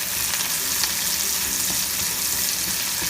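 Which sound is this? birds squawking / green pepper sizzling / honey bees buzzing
green pepper sizzling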